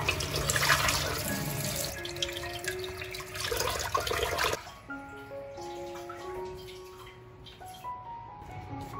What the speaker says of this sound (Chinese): 西红柿解冻后清洗干净。